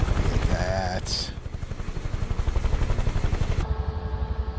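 A Bell UH-1 Huey helicopter in Microsoft Flight Simulator 2024, flying around Milford Sound, gives a steady rhythmic rotor thump throughout, with a short high chirp near the start and a slight change in tone toward the end.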